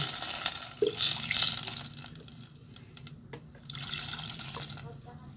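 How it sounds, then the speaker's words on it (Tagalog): Water poured into a pot of seafood (litob), with splashing and trickling that swells and fades, while a person talks nearby in a kitchen. "lagyan na po natin siya ng tubig"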